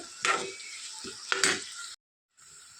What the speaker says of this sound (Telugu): ఇప్పుడు ఈ ఆనియన్స్ అనేవి ఫ్రై అయిపోయినాయి